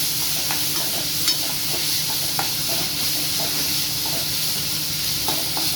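Onion, ginger and tomato sizzle in a hot pan during stir-frying for a banana flower poriyal, a continuous close frying hiss broken by scattered scraping stirs.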